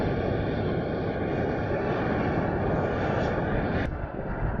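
A small DJI Neo drone's buzzing motor hums steadily, buffeted by gusty wind noise on the microphone, with a brief sharp click near the end.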